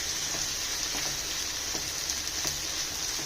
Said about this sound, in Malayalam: അതൊന്ന് വഴന്നു വരട്ടെ കേട്ടോ